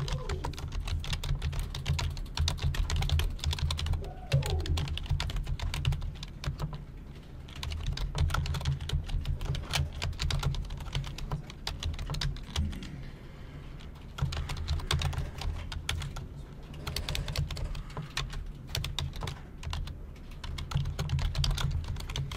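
Steady typing on a computer keyboard while writing code, continuous close key clatter with a low background hum, occasional short pauses, no speech.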